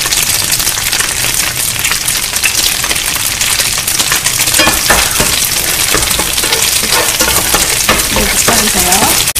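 Garlic and green onion stir-fry in a hot oiled pan, a loud, dense, continuous sizzle with rapid crackling and tossing, close and unbroken.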